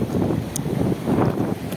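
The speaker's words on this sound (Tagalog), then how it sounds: "Lumakas na yung hangin mga master." Strong wind at sea buffets the microphone in rough, continuous gusts, with a low rumbling roar.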